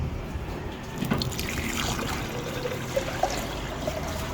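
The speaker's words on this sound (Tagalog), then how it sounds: "Lagyan natin ng tubig guys." Water poured into a mixture of honey and banana, a soft steady trickle at close range with a few small splashes and drips toward the end.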